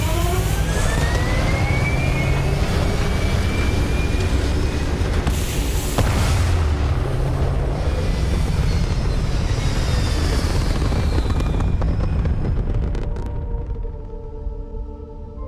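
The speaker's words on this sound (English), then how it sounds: "All thrusters firing." Spaceship thrusters firing in Starfield: a loud, steady roaring rush with rising whooshing tones and deep rumbling booms, fading toward the end.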